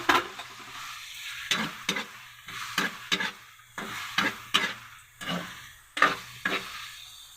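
Taro runners (takway) fry in pork fat with salt, a continuous sizzle broken by repeated scraping stirs of a utensil against the pan at a regular pace, with no talking.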